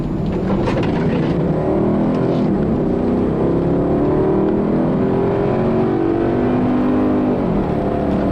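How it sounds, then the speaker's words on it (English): A deep, rumbling 4.2-litre V8 engine of a 2007 Audi Q7 revs steadily and loudly, its burly exhaust note rising and falling close by with no talking. "a nice burly V8 exhaust note"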